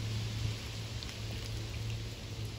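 Steady rain falling outdoors in Japan in autumn, a continuous even hiss with no break, fairly faint and heard alone without voices.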